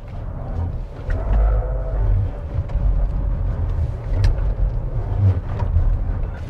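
Seres Aito hybrid car accelerating at full throttle on a racetrack, a steady loud low rumble of road and drivetrain noise with wind roar building throughout, heard from inside the cabin.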